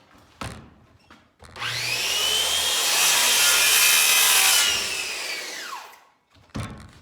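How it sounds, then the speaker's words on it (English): A power saw cuts through wood while a pocket door kit is being installed. The whine rises, holds for about three seconds and then winds down, loud and close, with a couple of short knocks before and after. "You'll notice I just cut through the wood. I did not cut the aluminum track."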